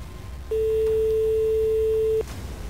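A single telephone ringback tone, the second ring of an outgoing call placed from a broadcast control room, sounds as a steady pure beep of about 1.7 seconds over low background hum.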